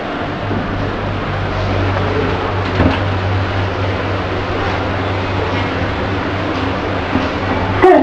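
A hydraulic lift in a Marks and Spencer store runs with a steady low hum and broadband rumble, constant throughout with faint clicks and knocks near the end.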